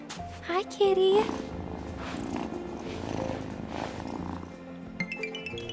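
A cat in the farming game Wylde Flowers gives a short meow, then settles into a soft, low purr that runs steadily beneath the game's background sounds, with a speaking voice over part of it.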